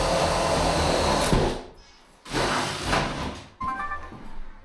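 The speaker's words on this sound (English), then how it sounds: "I'll be drilling through holes all the way through here with a little 22mm hole or something." A loud, steady whining power drill boring 22mm holes during a house renovation runs continuously, stopping briefly twice before starting up again, with no talking.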